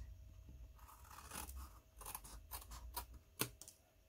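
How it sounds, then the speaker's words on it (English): Scissors trim across stuck-on material during a desk tidy project, a few short crisp snips and crunchy cuts close by and quiet, with small rustles between them. "and then I'm just going to take my scissors"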